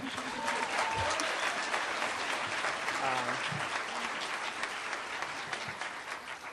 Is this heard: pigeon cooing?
no